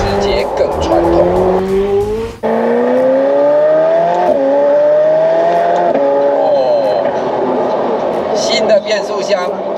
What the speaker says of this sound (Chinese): 它的排气管声浪哦更直接、更传统